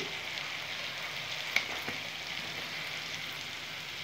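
A spoonful of cumin and other spices sizzles in hot oil in a frying pan as part of an egg dish, a steady close hiss like light rain with a sharp crackle or tap near the middle and no voices.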